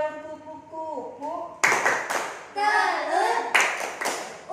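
Third-grade elementary school children clap their hands in a classroom clapping game, chanting along. Their claps land as a few sharp, loud bursts of several hands together, mixed with the group's voices.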